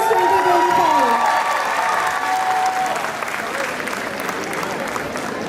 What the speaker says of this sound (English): A round of applause for Resonance